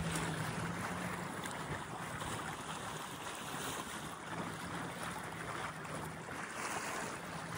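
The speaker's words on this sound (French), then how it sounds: "Et vogue le bateau." A sailboat under full sail cuts through open sea at about nine knots. A steady rush of wind and water runs throughout, broad and constant, with no voices.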